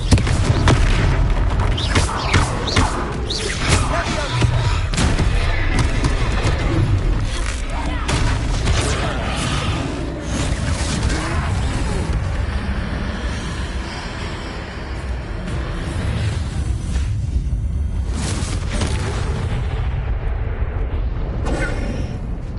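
Confringo spell blasts in the Hogwarts Legacy video game, a dense run of loud booming explosions and crackling impacts during combat, with game voices mixed in underneath.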